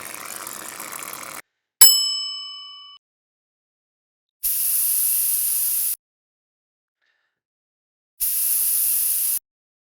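A paint sprayer puts primer on cabinet doors, with two separate sharp hissing bursts of about a second and a half each. They are set apart by silence and come after a short chime.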